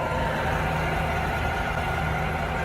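A Hardinge lathe runs steadily at 1100 RPM in speed range 3, giving a continuous close drone and hum with no change in level.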